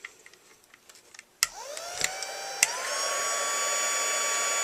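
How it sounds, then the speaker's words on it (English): A heat embossing tool switches on with a few clicks and spins up into a steady blowing whir of hot air, close and sustained. "Nice thing about these new heat tools, they're not loud."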